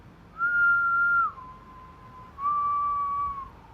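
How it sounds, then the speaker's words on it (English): Soft, sustained whistling of two long held notes, each stepping down in pitch, separated by a brief pause. "soft but deliberate whistling"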